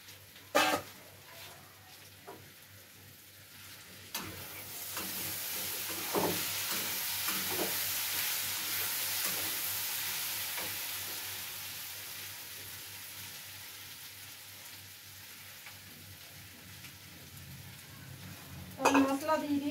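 Spices frying in a pan while being stirred, cooking alongside small fish and potato, a soft steady sizzle swelling in the middle with scattered utensil scrapes and clinks, plus a couple of louder knocks near the start and end.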